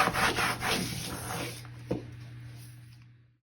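Candle wax is rubbed onto painted wood decor, giving a close, quiet scraping and rubbing over a few seconds that fades out toward the end.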